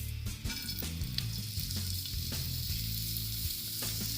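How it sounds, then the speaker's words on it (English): Vegetables fry in about four tablespoons of oil in a large pan over medium-high heat, a loud, dense, steady sizzle with a few scraping stirs, close and alone without speech. "Heat a large pan over medium-high heat. Add about 4 tablespoons of oil, followed by all of the vegetables."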